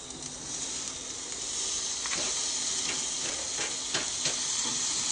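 A fillet steak sizzles on a hot open grill with the lid up, giving a steady, close, bright hiss with faint crackles throughout and no talking.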